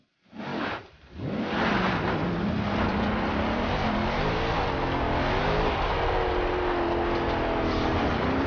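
Forza Horizon car engine starts up off-road, coughing briefly before settling into a loud, steady drone that rises in pitch through the gears, with no voices.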